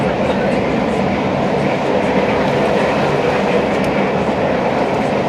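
A steam train engine runs nearby, giving a loud, continuous rumbling roar with a rhythmic rolling texture, heard up close from a coal-fired heritage railway excursion.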